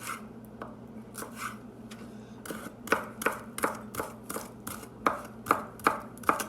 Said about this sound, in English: thinly slice it up like this